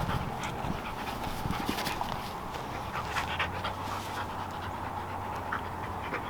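A dog pants close by after a game of fetch, rapid and steady breaths running throughout, with a few light thumps or footfalls in the background.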